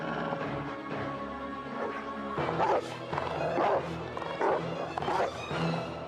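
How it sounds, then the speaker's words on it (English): A dog barks repeatedly in an indoor scene with dramatic, music-backed dialogue, several woofs and yips rising over the background at moderate distance, mixed with talking. "Save me from this vicious dog!"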